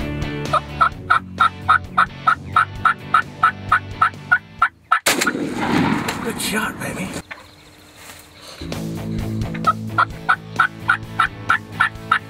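Wild turkeys gobble and call in a rapid, rhythmic series of loud, close calls, broken by a burst of rustling noise and a short quiet gap before the gobbling resumes.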